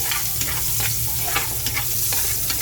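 Onions fry in a hot pan with a loud, constant sizzle and crackle, punctuated by scraping stirs close by, with no one talking.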